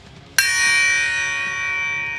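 A Paiste bell cymbal, a 2002 model, struck once with a sharp metallic attack that rings on as a bright, sustained, slowly fading bell-like tone.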